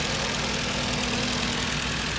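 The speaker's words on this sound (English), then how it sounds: "This engine does run great." Engine of a 2009 Dodge Caliber, front-wheel drive automatic with 92,000 miles, running at a steady idle, close and constant with no voices.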